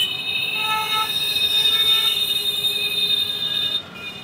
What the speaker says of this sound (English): It is coming to Sikanderpur and then it will go to Millenium City and all.